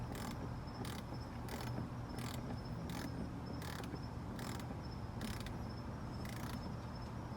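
A BMW E46 325i headlight adjuster mechanism clicks rhythmically as it is turned, about ten evenly spaced ratcheting bursts over a low steady hum, close and quiet.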